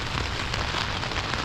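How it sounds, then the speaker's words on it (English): Rain falls steadily on a tent during a bikepacking trip in France, a dense, continuous close patter with no pauses, heard alone without talk. "It's not too bad actually, the rain."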